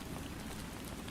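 Steady rain falling, an even wash of close patter that holds unchanged throughout with no voices.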